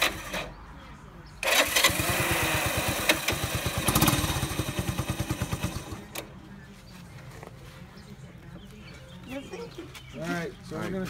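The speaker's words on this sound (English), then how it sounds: "My four-wheeler is faster than Anthony's mini bikes." A mini bike engine barks to life and runs for several seconds with a fast, rattling putter that rises and falls. It then fades down while people talk and birds chirp nearby.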